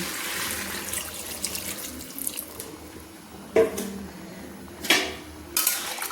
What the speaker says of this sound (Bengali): রান্না করে নেওয়ার জন্য জলটা অ্যাড করে দিচ্ছি